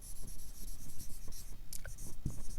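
Chalk or marker scratches across a board in short strokes during a lecture on exact differential equations, faint and close against a quiet room.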